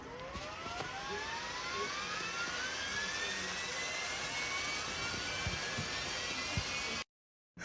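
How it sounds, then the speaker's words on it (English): Loud, steady jet-engine-like roar with rising whine tones, compared to a noisy PlayStation 4 console fan, sustained for about seven seconds before cutting abruptly to silence. "I hope it doesn't turn into a jet engine like the PlayStation 4. You know what I'm talking about? The jet engine sound."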